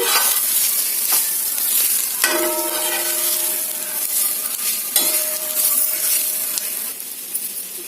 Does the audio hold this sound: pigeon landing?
no